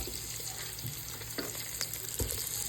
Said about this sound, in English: Now we're gonna add in and brown the sausage.